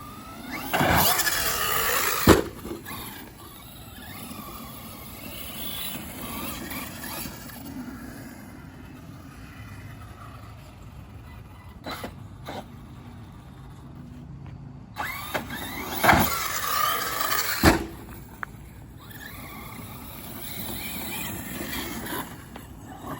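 An ARRMA Notorious RC car running outdoors, its electric motor whining in two brief loud bursts separated by a long stretch of quieter background noise, with small clicks and knocks between.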